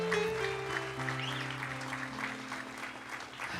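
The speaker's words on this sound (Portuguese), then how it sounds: "Aplauda o Senhor." A congregation at a Catholic Mass applauds in a sustained, dense burst of clapping that fills the space, with a held musical tone underneath and no clear speech.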